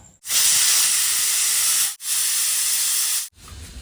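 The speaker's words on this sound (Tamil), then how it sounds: "பிரியாணி விசில் வந்து ஆஃப் ஆகிடுச்சு" A pressure cooker of chicken biryani vents steam through its whistle in loud, sustained hissing bursts, three long blasts separated by brief pauses.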